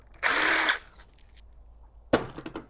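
An impact gun backs out Allen bolts on a 2014 Nissan Altima JF016E CVT transmission during teardown, one loud half-second burst followed later by a second short rattling burst, close up with no talk.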